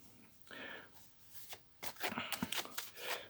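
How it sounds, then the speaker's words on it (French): Oracle cards being shuffled and drawn, quick papery riffles and slaps in short bursts, close and fairly quiet. "Je vais tirer quelques cartes."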